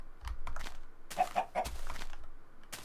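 Chickens cluck in the blocky survival game TerraFirmaCraft, giving a few short, close, bursty clucks in quick succession with brief gaps between them.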